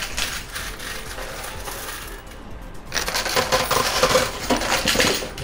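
High-limit coin pusher arcade machine shoving coins and poker chips, a dense metallic clatter and jingle of tumbling coins, pausing briefly then swelling louder with cascading drops.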